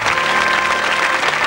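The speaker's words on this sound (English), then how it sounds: "Give them a round of applause" Studio audience at a 1985 cabaret-themed TV game show breaks into dense, loud applause, a continuous wash of clapping with no talk.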